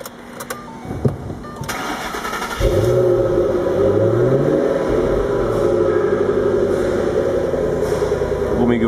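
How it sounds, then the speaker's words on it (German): A V8 car engine with a manual gearbox catches and starts after a moment of quiet, then settles into a deep, loud, close idle with rolling rev swells. "Brummige V8."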